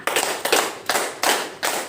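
A group of adults at a school training session claps a counted rhythm pattern, five sharp, evenly spaced unison claps ringing in a room with no talking.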